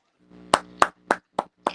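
Five sharp hand claps in a steady, slightly slowing rhythm, close and fairly loud, with no talking during them.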